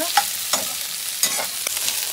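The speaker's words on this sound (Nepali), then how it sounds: "यसलाई चाहिँ रातो हुनेसम्म भुट्नुपर्छ" Fish curry gravy sizzles steadily in a pan, with a few soft scraping strokes of a spoon stirring it at irregular intervals; no voices.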